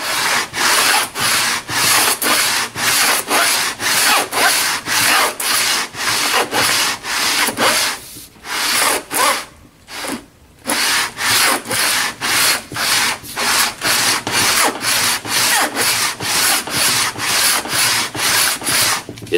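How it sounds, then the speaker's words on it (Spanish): Grit-40 sandpaper glued to an aluminium ruler rubbed back and forth to flatten wood for a Spanish guitar, a loud rhythmic rasping of steady strokes with a brief pause midway. "la aplanadora esta es un simple regla de aluminio, lija pegada, con cola de contacto, en este caso es de grano 40"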